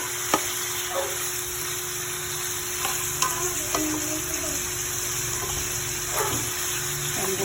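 Chicken for curry fries in a pan, releasing its own oil and water, giving a constant bright sizzle with occasional clicks and scrapes of a spatula, close and fairly loud over a steady background hum.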